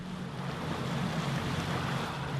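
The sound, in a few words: sharp sea wind off the coast of Ilulissat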